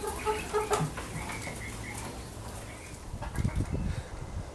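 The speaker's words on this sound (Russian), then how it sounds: "Ну вот видите, что куры очень довольны" Chickens kept in a greenhouse in winter cluck and murmur softly at middle distance, with a few scattered calls and low rustling over a faint background hiss, no talk.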